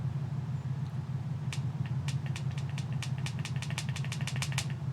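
Car engines idle at the start of a quick race in the Ford Racing 2 video game: a steady, loud low drone throughout, with a run of sharp clicks in the second half.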